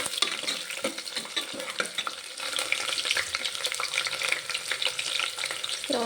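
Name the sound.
onions frying in pan with green chillies added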